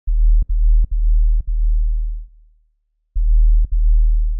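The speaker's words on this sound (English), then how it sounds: "it's only a sine wave" A deep, pure sine-wave bass synth tone plays in separate sustained notes with brief gaps, one long note fading out before a pause, then two more notes.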